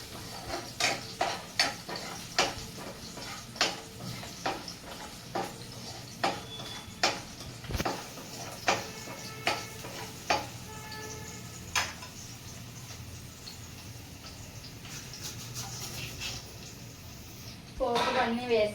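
Tempering spices fry in a pan for a dried prawn curry while a spoon stirs them, making a series of sharp metallic clicks and scrapes over a soft sizzle, with a clatter of utensils near the end.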